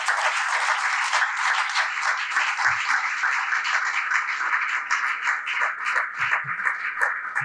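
Crowd applause at a career fair in Lagos rolls on continuously, with individual claps standing out toward the end and a faint voice underneath.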